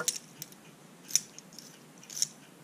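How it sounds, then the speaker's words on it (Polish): A key slides into an EVVA 4KS Modular door lock cylinder, making a few small, close metallic clicks and scrapes spaced apart over a quiet background. "O, widzicie? Wchodzi klucz."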